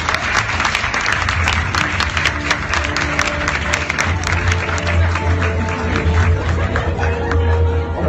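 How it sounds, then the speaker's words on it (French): A crowd at a stage hypnosis show applauds steadily and loudly, dense clapping with some cheering and murmured chatter spread over the whole stretch, with a low hum beneath. "Applaudissez!"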